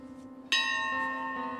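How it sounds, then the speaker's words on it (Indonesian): A single bell is struck once and rings out with a bright, sustained tone that slowly decays, close and clear, with no voices. "Lalu membunyikan lonceng itu."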